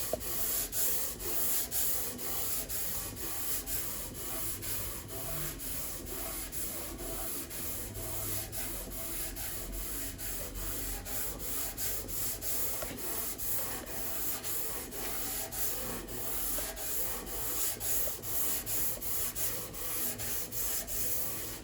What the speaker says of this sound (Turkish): 80 numara zımparayla tesviyesini ben sonlandıracağım.